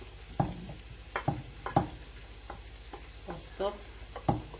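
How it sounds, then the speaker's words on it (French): Coconut crêpe batter is mixed by hand in a bowl. Soft irregular taps and scrapes come from the utensil at close range, with quiet pauses between strokes. "Mélangez d'abord comme ça, parce que si vous battez directement, la farine produit de la poussière."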